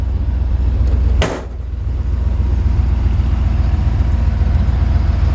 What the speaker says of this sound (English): Sound like an old truck. Nice V8.